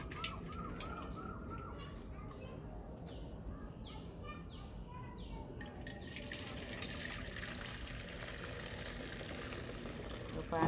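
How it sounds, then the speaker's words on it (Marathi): Hot water is poured out of a boiling pot to be changed, giving a faint, steady splashing trickle outdoors, with birds calling and voices in the background. "आता आई पाणी चेंज करतो तो."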